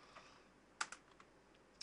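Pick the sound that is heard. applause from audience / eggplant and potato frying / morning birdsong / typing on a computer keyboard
typing on a computer keyboard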